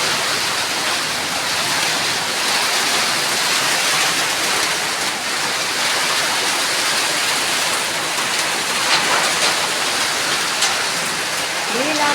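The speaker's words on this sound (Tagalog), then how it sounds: "Grabe ang ulan." Heavy rain pours down in a strong windy storm, a dense unbroken roar of water drumming on surfaces, loud and close, with faint voices underneath.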